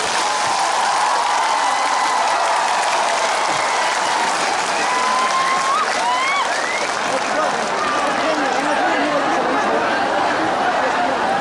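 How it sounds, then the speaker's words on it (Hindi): Audience applause fills a Hindi-language public speech venue, steady dense clapping with crowd chatter mixed in, loud and continuous throughout. "सबसे बड़ा ताली आपको होना चाहिए।"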